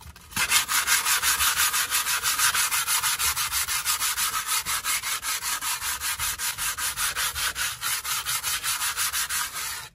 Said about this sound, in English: I'm just going to get a very light, very fine sandpaper, again very very lightly.